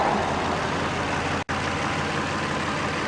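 Nissan Frontier engine idling on cold, freshly changed oil: a steady, loud mechanical drone with an even low rumble, with no talk and one brief dropout in the middle.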